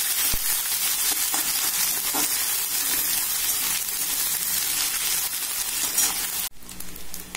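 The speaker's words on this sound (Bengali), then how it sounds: "এবারে শুটকি মাছগুলো দিয়ে দেব, খুব ভালো করে ভেজে নেব।" Dried fish (shutki) frying in a pan, a loud, close sizzle and crackle with occasional stirring scrapes, ending with a sudden drop in noise.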